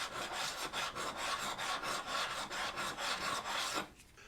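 Rhythmic rasping strokes as the old burr is honed off a swept back scraper woodturning tool, about a dozen quick even passes, close and fairly quiet, ending in a short pause.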